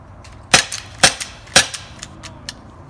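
A Walther PPQ paintball pistol fires three sharp, evenly spaced pops about half a second apart, followed by softer mechanical clicks and ticks, close and loud.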